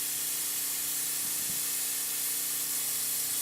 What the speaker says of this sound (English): So now we're just spraying the center and the driver's side.